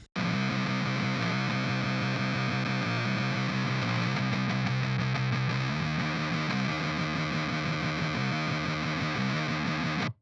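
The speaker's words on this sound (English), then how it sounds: "you can go from relatively clean and just a little bit broken up to completely bit crushed and destroyed" Heavily distorted electric guitar through a bit-crushing fuzz distortion plugin, with a crunchy, bit-crushed fuzz tone, playing continuously and loud throughout with no talking.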